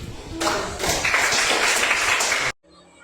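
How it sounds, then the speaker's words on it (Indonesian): Students in a classroom clapping, a dense burst of hand claps lasting about two seconds that stops abruptly, near and fairly loud. "barangkali kita tepuk tangan dulu untuk."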